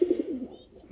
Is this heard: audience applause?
no